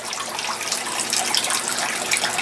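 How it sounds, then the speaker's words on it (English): Water from a leaking line runs and splashes back into an aquaponic tank, a steady, fairly loud hiss of falling water with no voices over it. "Got a bit of a leak coming out. It's going back into the tank though"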